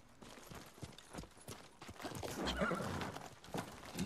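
A horse in Ghost of Tsushima whinnies amid a steady clip-clop of hooves, with rustling movement underneath, the neigh rising loud and close toward the middle.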